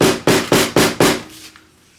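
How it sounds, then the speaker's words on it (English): Five evenly spaced, sharp hammer blows flatten the thick fabric seams of a bucket bag, each strike ringing briefly before a short fading tap at the end. "If your seams are super, super thick, don't hesitate to get a hammer to smooth it out a little bit."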